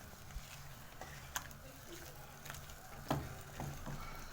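Chicken curry liquid simmering and reducing in a pan, a soft continuous sizzle with scattered pops and occasional utensil clicks, fairly quiet and close.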